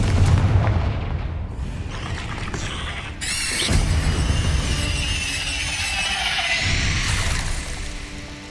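A fiery Confringo blast spell in Hogwarts Legacy bursts with loud, rumbling booms and crackling debris that swell and fade over several seconds of dense game noise, with no speech.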